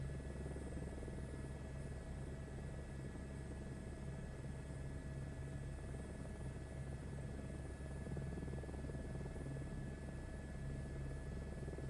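A helicopter in a flight simulator video game makes a steady, low rotor and engine drone. It stays constant and fairly faint for about twelve seconds, with no talking.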